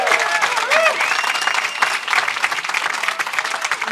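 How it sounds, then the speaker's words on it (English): An audience at a New York bill-signing ceremony for child social media protection legislation applauds steadily, a dense, sustained wash of many hands in a large room with a faint voice underneath. "let's give them a round of applause."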